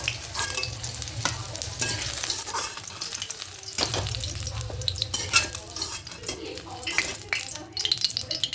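Eggplant pieces fry in oil and are stirred, a dense, close sizzle with frequent spatula scrapes and clinks against the pan.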